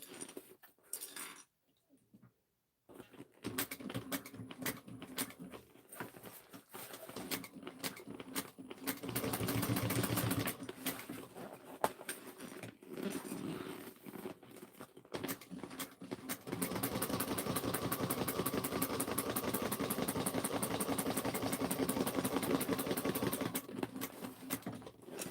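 A sewing machine top stitching around a messenger bag flap at an eighth of an inch, running in long continuous bursts of rapid, even needle clatter with brief pauses, close up and with no talk.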